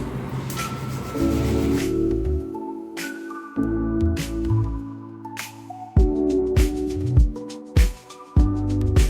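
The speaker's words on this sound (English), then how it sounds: "let me just squeeze out some water, and I'm going to take like the mask a little bit and just apply it on the ends" Wet hair is squeezed by hand to wring out water, giving repeated squishy, dripping bursts with short pauses between squeezes, close and fairly loud, with no talking.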